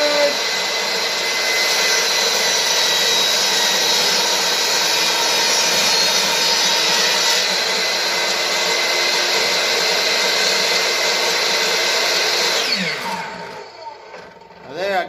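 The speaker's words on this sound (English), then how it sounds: "I got so excited about cutting that I forgot to adjust my blade height" A power saw cuts wood for a homemade wooden mallet, a loud continuous whining buzz that holds steady for several seconds before winding down and stopping.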